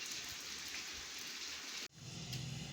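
Steady rain pours outside in a dense, even hiss that cuts out abruptly near the end, then returns with a lower rumbling tone.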